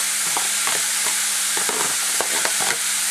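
Carrots and cabbage sautéing in a pan for vegetable samosa filling, close rhythmic spatula scrapes over a constant loud sizzle.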